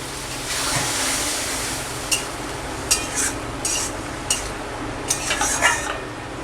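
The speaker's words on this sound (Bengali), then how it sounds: "জল দিয়ে ঢাকা দিয়ে দেব।" Water is added to a pan of spiced methi chicken masala and a lid is set on: a steady hiss of cooking with a few sharp metallic clinks and knocks near the end, close, with no talk.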